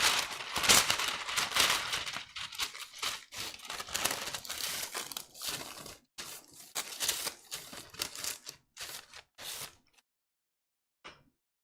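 Parchment paper crinkled and handled up close, a busy run of loud crackling rustles and crumpling bursts that thin out into a few sparse crinkles before falling silent.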